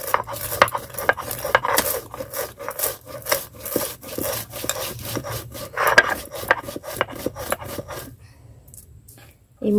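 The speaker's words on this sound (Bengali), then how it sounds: "আর এদিকে আমি মশলাটা বেটে নেব ভালো করে" Spice paste for aloo chop ground by hand, heard as steady rhythmic rasping strokes of stone on stone, close and fairly loud, repeating for about eight seconds before stopping.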